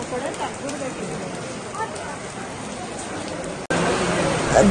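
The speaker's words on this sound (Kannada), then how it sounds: "ಯಪ್ಪ ಎಷ್ಟು ಜೋರ್ ಮಳೆ ಸ್ಟಾರ್ಟ್ ಆಗೋಯ್ತು" Steady, dense hiss of heavy rain pouring down without a break at a crowded hill temple in the Malenadu region, with a sharp cut partway through after which the downpour sounds louder.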